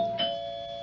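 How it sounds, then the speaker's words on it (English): A doorbell in a radio mystery drama sounds one ding-dong chime, the two tones ringing and fading gently in a quiet room, with no voices over it. "Who's that? Doorbell."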